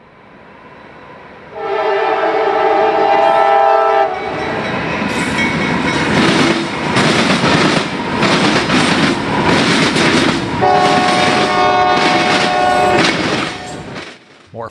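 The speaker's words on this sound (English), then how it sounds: "More phosphate loads, this time bound for the Canadian National, pound across the NS Diamonds at Pence." Freight train hauling phosphate loads pounds across rail diamonds at a junction, with a loud horn blast at the start and again near the end over steady rumbling wheel noise and clatter.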